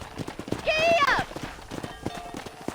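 Horse hooves clip-clopping at a run in the Red Dead Redemption western game, steady rhythmic thuds heard close under game dialogue, with a brief neigh-like cry in the middle.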